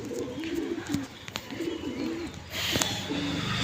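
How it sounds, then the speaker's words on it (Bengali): Pet pigeons coo close by in a loft, repeated soft throaty calls in short phrases, with a few wing flutters and light scuffles in the background. "এই পায়রা ছাড়া আছে দেখতে পাচ্ছেন"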